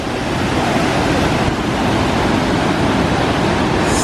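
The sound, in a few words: flowing water of a stream feeding Niagara Falls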